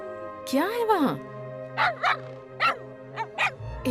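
A dog barks repeatedly, starting with a drawn-out yelp and then a series of short, evenly spaced barks, close and clear over a low background hum.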